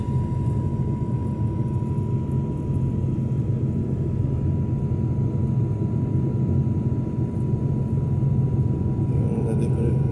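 An airplane taking off on a flight from Okinawa's Kerama area toward Tokyo, heard from inside the cabin as a steady, loud low engine roar and rumble with a faint tone above it.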